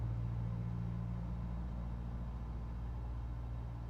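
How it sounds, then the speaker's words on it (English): A tractor passing by outdoors, heard indoors as a steady, low engine rumble with a droning hum that stays even and moderately quiet throughout, with no speech. "That tends to be a tractor that drives by every great once in a while"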